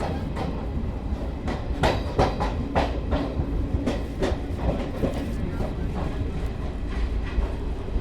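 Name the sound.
Garib Rath Express train running on the tracks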